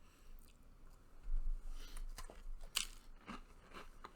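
Someone bites into chocolate chip cookies, comparing gluten and gluten-free versions, producing soft, close crunching and crumbly chewing with a few sharper crackles, fairly quiet throughout.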